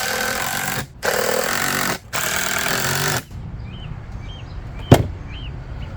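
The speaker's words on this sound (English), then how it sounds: "Guys, these cordless drills, real wonders." A cordless drill running in three long bursts at a building site for a dragon fruit trellis, each loud and close, separated by brief pauses, followed by quieter background noise and a sharp knock.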